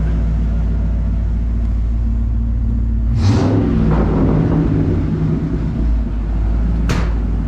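A 1994 Ford F150 4x4 engine rumbles steadily at idle close by, with a short rise around the middle before settling back down, and a brief bright clank near the end.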